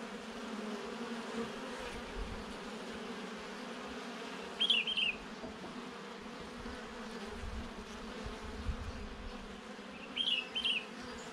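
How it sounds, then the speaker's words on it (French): Honey bees forage on a freshly opened palm flower, a steady close buzzing hum running throughout, with a few brief high chirps breaking through twice. "Les abeilles sont arrivées dessus, c'est incroyable."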